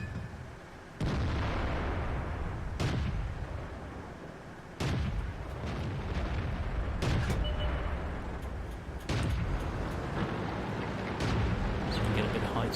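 Tank cannon shots from World of Tanks, featuring a German Tier VIII tank destroyer, fire as about five sharp, loud booms spaced a couple of seconds apart. Each blast rings out briefly over a constant rumble of engine and battle noise.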